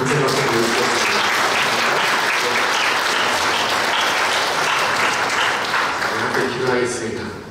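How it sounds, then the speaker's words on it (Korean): Congregation applauding at a church forum held in a church, loud, dense clapping from a large crowd, sustained and then tapering off at the end, with voices mixed in. "우리 함께 하신 우리 모두에게 또 축복하고 하나님께 감사의 박수 드리겠습니다"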